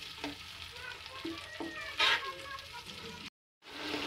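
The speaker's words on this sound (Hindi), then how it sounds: "थोड़ी देर के लिए टमाटरों की भी हम भुनाई करेंगे" Tomato paste made from two large tomatoes frying in a pan for beef kachnar, a soft sizzle with stirring clinks and a brief louder hiss, then a short silence before the sizzle returns.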